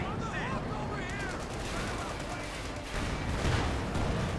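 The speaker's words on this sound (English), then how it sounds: "the command tank moving up there with its Stummel cannon there, just blasting away that short velocity gun" A Stummel short-velocity cannon on a command tank keeps firing in the Company of Heroes 2 strategy game, its dull repeated blasts layered over dense, continuous battle noise.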